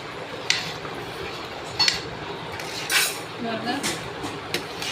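A spoon scrapes and clinks against a pot while tamarind rice is stirred, with a few sharp metallic taps over a soft, mushy mixing noise close by.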